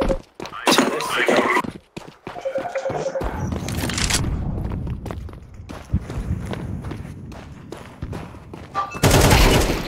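Gunfire in Counter-Strike 2 during a casual match, with sharp shots and rapid footsteps mixed into dense game noise over several seconds, ending in a loud burst.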